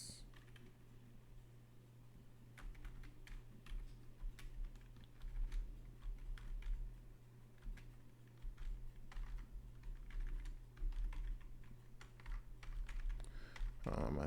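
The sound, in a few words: typing on a computer keyboard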